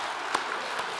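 Brief, soft applause from a congregation during a main church service, a muffled wash of clapping with a couple of louder individual claps.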